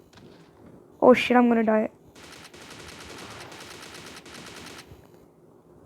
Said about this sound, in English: I'm gonna kill you with my grenade launcher, of course.